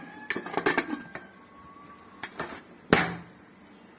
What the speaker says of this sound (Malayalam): കുക്കർ അടച്ച് അടുപ്പിൽ വെച്ച് വേവിച്ചെടുക്കാം.